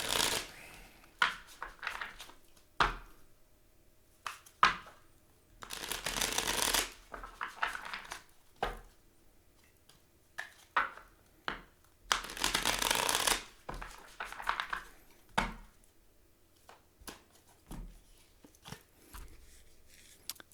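Tarot cards are shuffled close by in a quiet room, with repeated bursts of riffling and crisp card slaps spread irregularly across the span.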